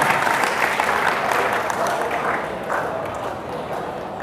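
Classroom audience clapping for a fellow student at an entrepreneurship talk in Bali, a steady dense wash of hands filling the room throughout, with faint voices murmuring beneath it.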